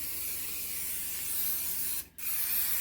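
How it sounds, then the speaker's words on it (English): Cooking spray hisses in a steady, close aerosol stream onto a lasagna pan, briefly stops, then resumes for a second burst. "we're going to spray our cooking pan."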